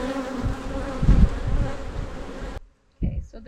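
Honey bees buzz steadily and close up while a hive is opened for inspection in a bee yard. The dense droning swells briefly, cuts out for a moment near the end, then returns.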